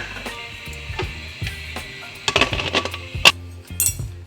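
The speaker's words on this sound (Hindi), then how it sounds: "अब हम कुकर का ढक्कन दे दें इसके ऊपर 10 मिनट के लिए।" Metal clinks and clatters as a pressure cooker lid is set down over cooking dal, a few sharp knocks and scrapes over a low steady hum, close by.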